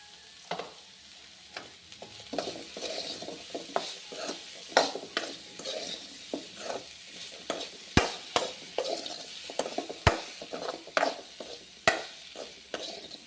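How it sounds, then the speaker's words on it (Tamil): Tempered chickpeas and grated coconut being stir-fried in a pan, with repeated scraping stirs over a soft sizzle and sharp clicks of the utensil against the pan, close and fairly quiet. "கடலை தாளித்து வச்சு இப்போ அதுக்கு தேங்காய் பூ போட்டுக்கலாம்."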